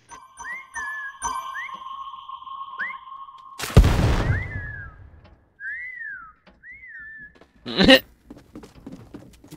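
Repeated whistle calls from a Fortnite Prop Hunt game ring out as short rising and falling chirps over a sustained tone, broken by two sharp loud bangs, with no talk.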